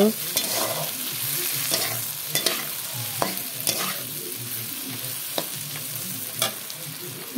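Potato and eggplant pieces fry in a pan while a spatula stirs them, giving a steady crackling sizzle punctuated by repeated scraping and clinking strokes at close range.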